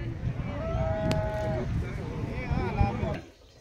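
A dairy cow on a farm gives a single drawn-out moo, close and clear, over steady barn background noise.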